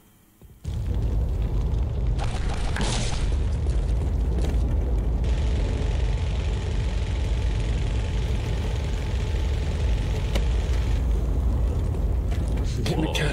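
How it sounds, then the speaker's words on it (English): Rocket explosions in the video game Postal 2 Paradise Lost, a loud, close, continuous booming roar that kicks in abruptly and rumbles on without letting up. "Enough with the damned rockets!"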